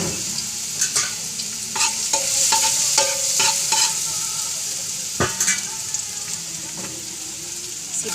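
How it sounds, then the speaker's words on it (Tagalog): Garlic sautéing in hot oil for chicken adobo with pineapple: a bright continuous sizzle, close by, broken by several sharp scrapes and clinks of a utensil stirring in the pan. "Kung mainit na yung mantika,"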